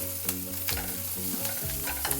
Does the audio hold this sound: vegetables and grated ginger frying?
yes